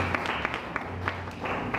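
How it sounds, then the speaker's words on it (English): A church congregation claps in praise during a worship service, with steady, dense clapping filling the short moment and no voices over it. "Let's give the Lord a clap of praise."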